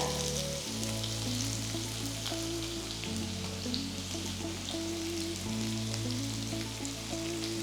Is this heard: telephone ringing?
no